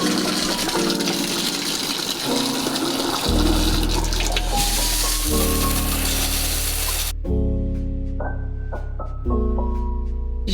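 Water runs and gushes steadily in a home bathroom, a continuous close hiss and splash that shifts in pitch a few times, with no talking.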